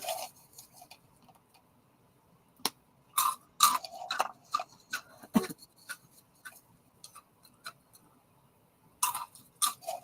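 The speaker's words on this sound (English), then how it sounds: "I can hear you crunching" Someone crunching food while eating, a run of sharp, irregular close-up crunches and bites with quiet gaps between them and no talking.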